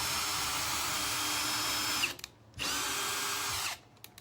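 A power drill pre-drilling into wood for an upcycled rustic shutter project runs in two loud sustained bursts, the first about two seconds long, then a brief pause before the second, each ending abruptly.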